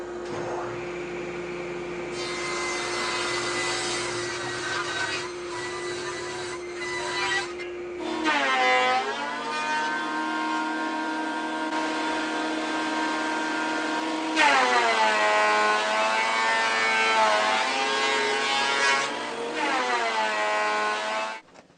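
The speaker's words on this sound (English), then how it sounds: "These big planer shavings sure fill up a dust collector fast." Lumber fed through a planer with a dust collector running, a loud sustained mechanical whine and roar that shifts pitch as boards pass, continuous with no speech.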